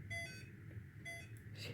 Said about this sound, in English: You'll know it's on when you get the beeping sound.